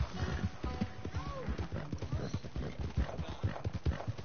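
Hooves of a horse in the video game Red Dead clip-clop in a quick galloping rhythm, moderately close, with voices talking over the running.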